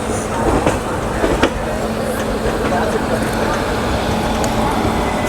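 A train hauled by a WAP-4 electric locomotive rumbles steadily at close range, a dense continuous roar with faint rail clicks and a low hum throughout.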